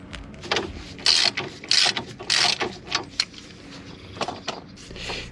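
A wrench works loose a suspension link nut on a Fiat Bravo during a control arm replacement. Close, irregular metallic ratcheting clicks and scrapes come in short bursts.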